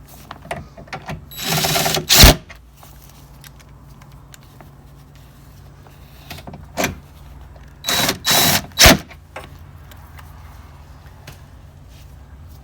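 Short whirring bursts from a power tool drive bolts into a 2018–2019 Honda Accord front door, coming in a few brief separated runs amid quiet workshop handling noises.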